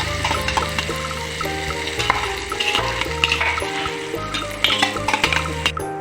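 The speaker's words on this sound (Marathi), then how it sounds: "आता यामध्ये हिरवी मिरच्या बारीक करून घेतलेल्या होत्या त्या सुद्धा यामध्ये टाकून घेणार आहे।" Green chillies dropped into hot oil with cumin for a peanut chutney, frying with a steady close sizzle while a utensil stirs and scrapes the pan, with occasional metallic clinks.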